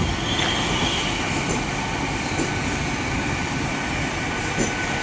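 A nine-coach Class 800 train rumbles loudly and continuously at Exeter St David's station on a Sunday evening, with rolling wheel noise and faint squeals, no talking.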